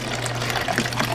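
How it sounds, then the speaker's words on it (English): Water poured into a drink mixture, a brief continuous splashing pour over a steady low hum. "Add some water."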